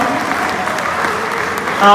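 Audience applause at a Nepal Bible Society golden jubilee celebration, a steady wash of many hands clapping throughout, fairly loud and continuous, with a brief tonal sound rising near the end.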